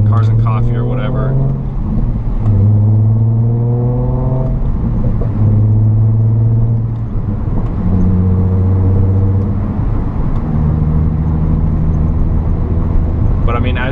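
A Nissan 350Z with a Tomei exhaust cruises in sixth gear at about 45 mph, just under 2,000 rpm, giving a low, steady, subdued drone with slowly shifting tones beneath continuous talking inside the car.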